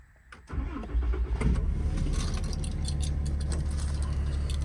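A 2022 Ram 5500 with a Cummins diesel engine cranks and fires up close by, settling straight into a loud, steady diesel idle with no talking.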